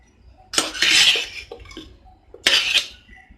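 Ghee rice with fried cashews and coriander is mixed in a pot, with two loud bursts of spoon scraping and clattering against the metal separated by a brief quiet gap.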